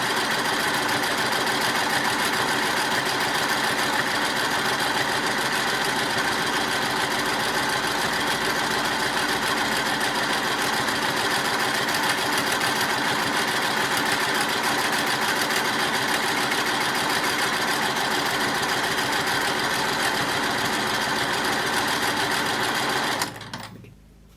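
A sewing machine free-motion quilting a feather design runs continuously at a steady, fast whirring hum, close and loud, for the whole stretch before stopping abruptly at the end.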